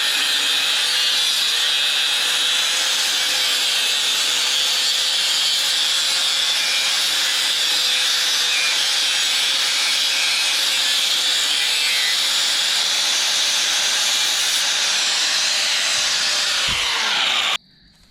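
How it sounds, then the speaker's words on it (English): A Milwaukee angle grinder with a cutoff wheel cuts through metal, a loud, continuous high-pitched whine lasting about seventeen seconds before stopping abruptly. "Got my cutoff wheel here, my handy dandy Milwaukee grinder."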